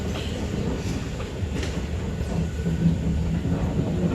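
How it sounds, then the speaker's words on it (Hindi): A light rail train in Kuala Lumpur, Malaysia rumbles steadily nearby, a continuous low rolling drone of wheels on track with faint rail clatter and a brief squeal-like tone, no one talking. "ये जी मलेशिया की ट्रेन है, LR ट्रेन।"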